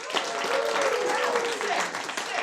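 An audience at a live show in a theatre breaks into applause, a dense, sustained wash of clapping and crowd noise with cheering voices mixed in, close and fairly loud throughout.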